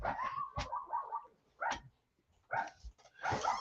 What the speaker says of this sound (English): I just heard my dog just start barking.